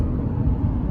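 An Audi R8 sports car in sports mode, its exhaust a deep, loud, steady rumble close by, with no voices.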